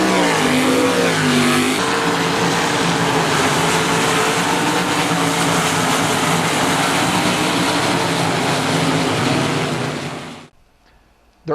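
A dirt track race car engine revs loud and close, a sustained roaring drone with shifting pitch that runs steadily for about ten seconds before cutting off abruptly.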